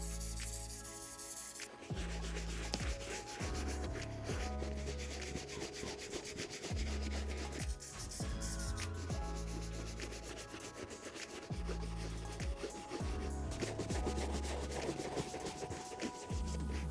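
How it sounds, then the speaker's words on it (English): A horsehair brush rubs mink oil into the leather of an Air Jordan 3 Black Cat sneaker, making close, loud, repeated scrubbing strokes in an uneven back-and-forth rhythm that continue after a quiet opening, with no speech. "I'm gonna spray some mink oil directly on there, rub it into the material"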